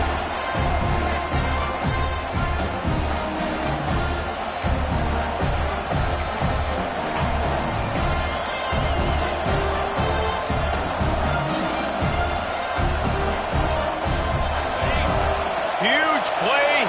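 Stadium crowd in the College Football 26 video game roaring steadily throughout, loud and sustained, with thumping hits and commentary voices talking over it.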